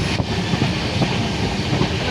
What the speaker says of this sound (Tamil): ட்ரெயினில் ஏறி ட்ரெயின் குச்சுன்னு போயிட்டுருக்கு